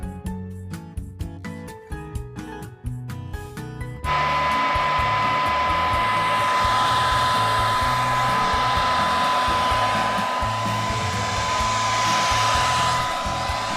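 A hair dryer blowing to dry wet shoes indoors, switching on after a few seconds of soft clattering and then running as a loud, continuous whooshing roar with a steady whine.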